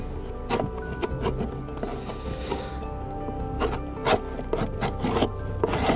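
Dried dead bumblebees being scraped off a beehive during a honeybee renaturation project, a steady close rasping and rubbing with a few sharper scratches.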